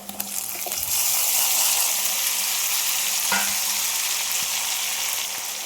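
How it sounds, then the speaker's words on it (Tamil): Chopped tomatoes fry in a pan of oil for a seer fish curry, giving a steady, fairly loud hiss with a few light clinks and stirring scrapes near the start. "தக்காளி சேர்த்தோன்னா சீக்கிரமாக இப்போ வதங்கிடும் நமக்கு."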